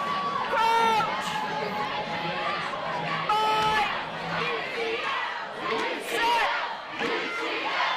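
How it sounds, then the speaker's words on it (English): Spectators at a women's London Varsity rugby match between UCL and King's cheer and shout in a loud, surging roar, with high whoops and yells rising and falling over a constant crowd din. "More noise from the crowd for UCL."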